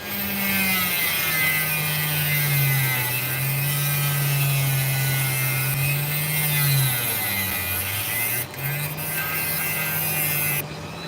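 A Dremel rotary tool whines steadily while carving sand off an opal, its pitch wavering slightly as the bit bears on the stone, running continuously and up close throughout.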